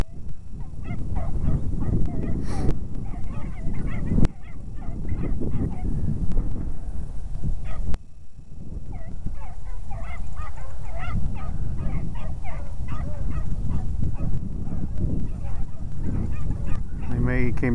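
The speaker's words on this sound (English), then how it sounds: "There comes the dogs." A beagle pack out hunting on open prairie in April, the hounds baying and yelping in a loud, continuous chorus, with people talking over them throughout.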